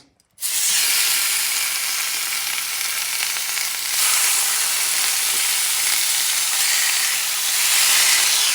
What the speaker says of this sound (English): And you add the meat. It's not going to take you a long time because they're very thin.